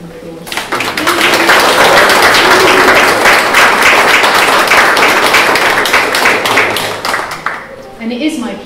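A crowd at a private view for an exhibition of plastics gives loud, sustained applause. Dense clapping builds quickly, holds for several seconds, then thins out, and a few voices come in near the end.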